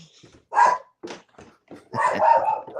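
A dog barks in short, loud, close bursts, first a single bark, then a few sharper yips, then a longer run of barking near the end, with no speech.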